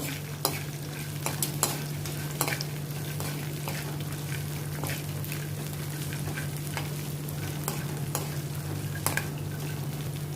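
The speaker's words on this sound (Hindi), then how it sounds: "इनको भी अभी मैं पीनट्स के साथ रोस्ट करती हूँ।" Almonds and peanuts roast in a pan with curry leaves nearby, a steady sizzle under repeated scraping stirs and light clicks of the spoon against the metal, close and continuous for about ten seconds.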